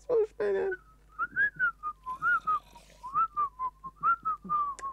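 A person whistles a short, wavering melody, several quick rising and falling notes in a row, close to the microphone, after a brief vocal sound at the start.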